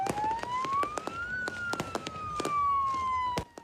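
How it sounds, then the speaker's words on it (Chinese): A fire truck siren wails with a rising and falling tone at a fishing harbour on New Year's Eve, while sharp firecracker bangs go off repeatedly around it, loud and close. "就算消防车发出警报声"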